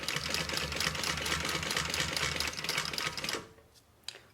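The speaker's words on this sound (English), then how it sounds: "Now I'm pulling on the placket as I'm stitching here to get it good and flat." A sewing machine stitches a placket on a fabric thigh bag, with a steady, fast mechanical whir for over three seconds before stopping, followed by a single light click.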